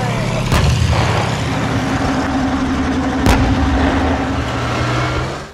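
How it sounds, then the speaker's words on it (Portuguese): Heavy blasts from a tank gun, with two sharp, loud booms about three seconds apart set over a dense, rumbling engine-like background. "a potente onda de choque criada pelo disparo de uma arma de tanque"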